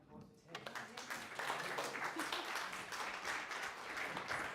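An audience gives Tess a round of applause, steady dense clapping heard faintly and from a distance, building after the first half-second and holding through to the end.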